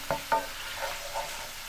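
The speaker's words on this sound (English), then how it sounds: "I'm going to brown all my meat and have it ready to go" Hamburger meat browning in a pan, a soft continuous sizzle with two quick scraping stirs near the start, fairly quiet and heard alone.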